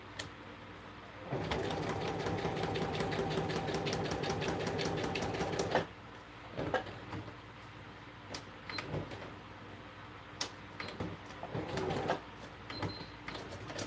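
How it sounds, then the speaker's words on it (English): Sewing machine stitching craft pages together at the top, a fast steady mechanical whir for several seconds, then stopping and giving way to quieter handling clicks and rustles, no speech. "So I'm going to stitch this together at the top."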